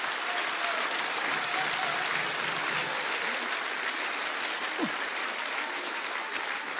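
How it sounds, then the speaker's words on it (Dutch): An audience at a Passion Achterhoek stage performance applauds steadily, a dense, even wash of clapping from a large crowd that holds without pause throughout. "En apart applaus voor jullie twee is toch wel in het bijzonder waard"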